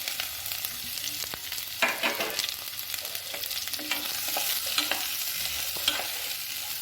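Chopped onion and garlic frying and being stirred in a pan, a continuous sizzle broken by repeated scraping strokes of the spoon, close and fairly loud.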